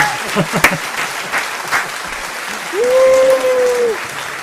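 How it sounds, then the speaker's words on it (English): Audience applause at a live-streamed street performance in Camden, London, heard as scattered clapping under some talk, with a steady tone sounding toward the end. "Big round of applause."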